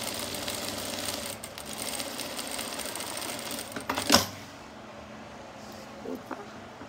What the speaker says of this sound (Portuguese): Vou encostar o meu pé de máquina no zíper e vou fazer uma costura